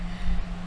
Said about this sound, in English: I'm also sorry if you can hear my fan in the background.